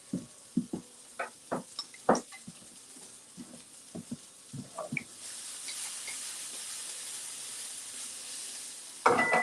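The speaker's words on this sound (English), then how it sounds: "Mushrooms are frying away." Mushrooms fry in a pan: several separate clacks and stirring knocks at first, then a steady, even sizzle that holds to the end, with one louder scrape just before it stops.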